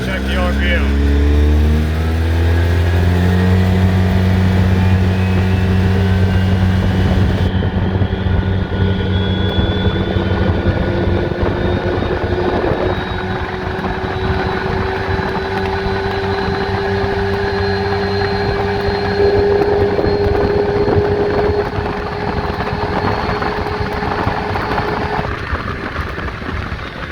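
A 2013 Polaris RZR 800S side-by-side UTV with aftermarket clutches, in high range, revs and drones loudly, its pitch climbing and shifting as it accelerates, with someone talking over it at times.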